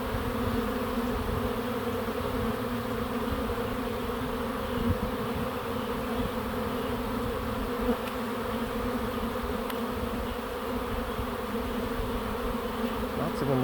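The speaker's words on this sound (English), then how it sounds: "See these bees just piling in the entrance?" A massive honeybee swarm pours into a backyard swarm trap, a dense, steady buzzing drone of countless bees close by, unbroken and even in loudness throughout.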